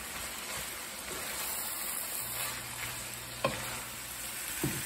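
Onions, carrots and bison meat fry over high heat in a pan, making a quiet, steady sizzle with occasional stirring clicks and scrapes.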